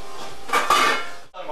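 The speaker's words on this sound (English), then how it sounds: "Cover it with something. I'm going to use this oversized pan" An oversized metal pan is set down over a container as a cover, giving a couple of close clattering metal knocks and a brief scrape, with a short quiet gap near the end.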